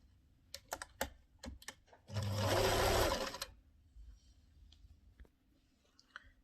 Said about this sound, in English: So let's sew.